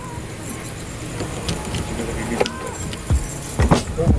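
Metallic car keys jingle and clink in short bursts amid outdoor noise, with brief thuds and handling sounds toward the end, during a bucket seat install in a Ford Focus ST.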